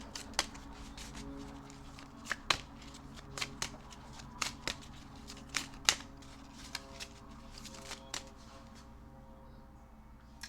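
Tarot cards shuffled close up in a quiet room, a steady rustle broken by a dozen or so sharp riffling snaps at uneven intervals.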